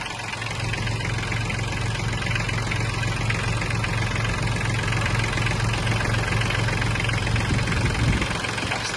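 A small three-cylinder diesel engine of an Iseki TK-25 Japanese mini tractor idles steadily up close, a loud rhythmic diesel knock thrumming without pause.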